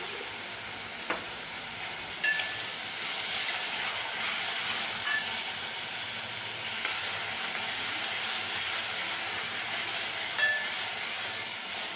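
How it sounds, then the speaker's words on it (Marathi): Onion frying with a little salt in a pan, a steady close sizzle and hiss throughout, punctuated by occasional light stirring clicks and scrapes. "कांदा परतत आलाय."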